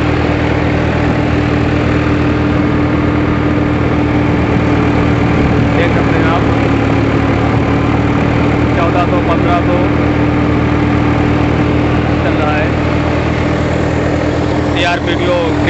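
A Swaraj 744 XT tractor drives a 60 HP thresher, giving a loud, steady mechanical drone with a constant low hum and a busy rattle over it. The sound holds even and unbroken throughout.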